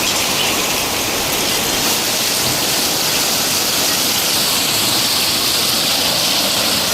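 Heavy rain pours steadily in a dense, continuous roar, loud and close, with no voices.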